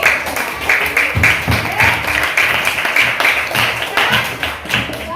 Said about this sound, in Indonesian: Beri tepuk tangan buat Airin.